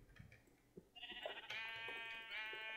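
A Minecraft sheep gives a drawn-out, wavering bleat over quiet game background noise, faint and alone.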